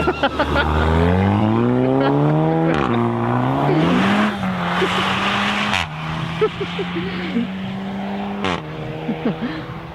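A Mercedes C63 AMG launches hard on a wet road in the rain, its loud, close V8 engine climbing steeply in pitch through several surging rev sweeps and shifts, with tires hissing on the wet surface throughout.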